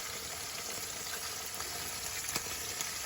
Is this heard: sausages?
yes